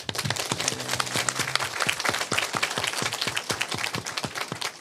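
Applause from an audience at a Korean industrial forum, a steady burst of many hands clapping that carries on densely for several seconds without any talk.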